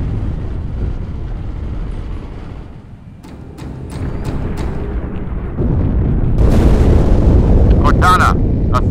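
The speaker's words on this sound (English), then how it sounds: "That explosion came from inside the Athens, same as the Malta." An explosion aboard a space station in the Halo 2 Cairo Station chapter rumbles low and heavy, then swells into a louder roar near the end with sharp bursts over a deep background drone.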